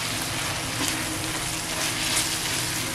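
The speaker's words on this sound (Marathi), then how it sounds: "तर त्याला तेल सुटेपर्यंत आहे ना व्यवस्थित असं फ्राय करून घ्यायचं." Liver masala with oil, garam masala, turmeric and coriander fries on a hot tawa, giving a steady, dense sizzle and crackle throughout, close and continuous with no voices.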